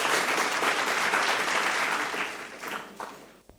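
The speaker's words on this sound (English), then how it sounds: "Please, a round of applause for them." A room erupts in a dense round of applause for Garrison Junior High School after a school quiz contest, steady and loud before tapering off near the end.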